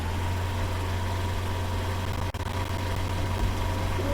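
A motorbike engine in the Roblox video game gives a steady low droning hum, moderately quiet and unbroken apart from one brief click partway through.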